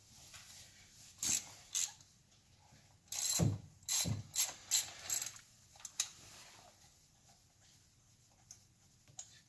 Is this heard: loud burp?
no